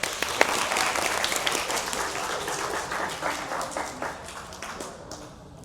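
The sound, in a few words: village schoolchildren clapping in class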